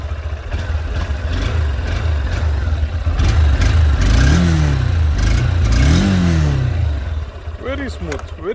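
Honda CB200X motorcycle engine, a smooth single-cylinder commuter-type unit, held at a steady loud note and revved twice, rising and falling, then easing off toward idle near the end.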